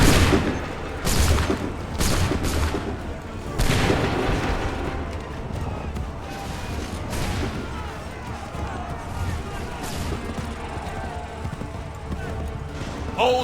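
Musket volleys during the Battle of Bunker Hill in Assassin's Creed 3: dense, continuous battlefield gunfire with repeated loud bursts and booming shots layered over shouting and a steady din of combat.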